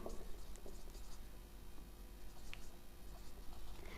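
Pen or marker writing on a board or paper during a Class 10 maths proof on irrational numbers, a soft continuous scratching with faint taps, steady and close, with no talk.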